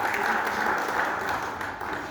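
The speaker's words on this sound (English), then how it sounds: "Round of applause, please, for the participants of Series 2." An audience applauds participants of a sponsorship leadership programme, a steady, dense wash of clapping that holds at an even level throughout with no pauses.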